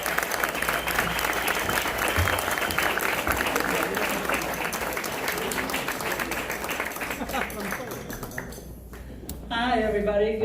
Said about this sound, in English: Please give a warm round of applause to Deb Clapp